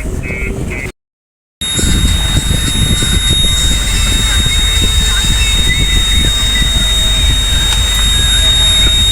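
A loud, steady engine rumble from a running tractor, with a constant mechanical whine, continuing after a brief silent break near the start.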